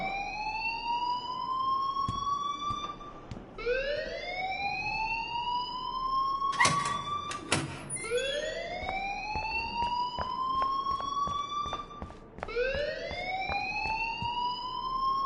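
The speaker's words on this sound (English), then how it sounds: "please turn off that alarm since that's your job" A video game alarm sounds in repeated rising electronic whoops, about every four seconds and loud in the foreground, with sharp clicks and bursts between cycles and no talk.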